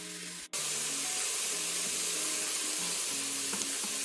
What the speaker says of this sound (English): I'm going to cook this mirepoix mixture, which is carrots, onion, and celery, for about 5 minutes.